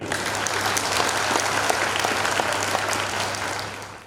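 A church congregation at a worship service claps loudly and continuously, a dense close roar of many hands with a few sharper individual claps, a low steady hum beneath, fading slightly at the end.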